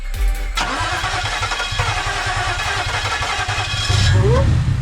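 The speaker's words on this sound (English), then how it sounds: "start the car up" An Audi S4 engine cranks with a rapid rhythmic starter chug for several seconds, then catches and roars louder near the end.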